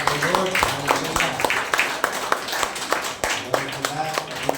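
An audience at a church service applauds with rhythmic, fairly strong claps spread across the room while voices talk and call out over the clapping.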